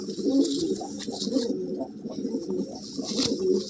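A restless Madrasi pigeon coos while held in the hand, giving low, throaty, continuous cooing close by with a soft rustle of movement.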